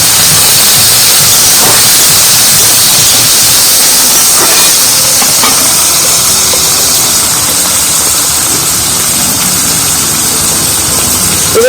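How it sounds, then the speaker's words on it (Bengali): Garlic and chopped potatoes frying in oil in a home kitchen: a loud, steady sizzling hiss filling the whole clip, with faint clinks over it and no voices. "এবারে এর মধ্যে কেটে রাখা কুচি কুচি করে আলু ছোটো ছোটো করে তেলের মধ্যে দিয়ে দিচ্ছি।"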